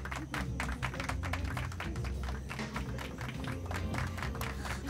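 Loud continuous applause from a studio audience greeting a singer, a dense crackle of many hands clapping over a low rumbling backing.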